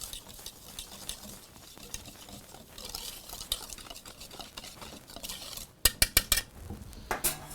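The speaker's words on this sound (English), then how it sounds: "So dry ingredients get whisked together" Dry cornbread ingredients, including baking powder, baking soda and kosher salt, whisked in a bowl, with a soft continuous scratchy stirring that gives way to a few sharp metallic clinks against the bowl near the end, close by and without talk.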